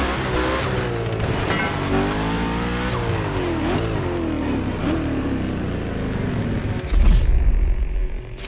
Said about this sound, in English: You'll be driving the only electric Hoonigan car, which is probably the most powerful Gymkhana car, the Audi Hoonitron.